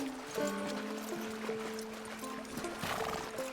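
Horse hooves clip-clop in the Red Dead Redemption II video game, steady muffled steps over a wash of outdoor noise, with tonal voice-like or whinnying sounds layered on top.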